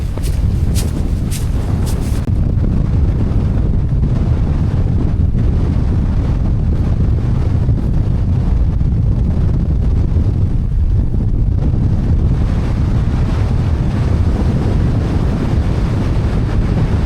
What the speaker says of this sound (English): That wind just isn't letting off at all.